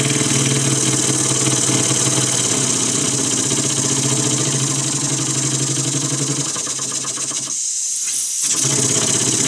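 An engine runs steadily in a workshop, a loud dense mechanical clatter with a continuous rhythmic hum, briefly dropping near the end before resuming.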